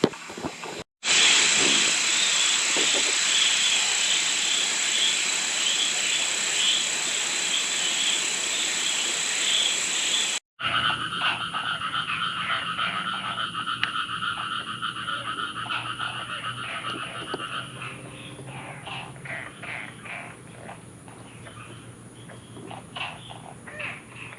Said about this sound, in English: This is a chorus frog, but I don't remember the rest of the common name. Possibly Chinese chorus frog.